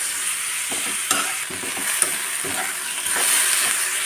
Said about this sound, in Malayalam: ഇനി ഇതിലേക്ക് അരിഞ്ഞു വെച്ച സവാള ഇനി ഇത് നന്നായിട്ട് വഴറ്റിയെടുക്കാം